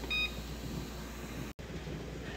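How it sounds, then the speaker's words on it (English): A kitchen timer on a stovetop water-bath canner for cranberry juice gives a quick, bright beep near the start, then fades into a steady background hum. "our timer just went off for the 25 minutes"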